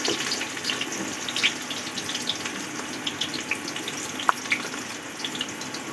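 Sliced onions sizzling in about a cup of hot oil inside a pressure cooker, a steady soft frying hiss with small scattered pops and crackles, close and continuous with no talking.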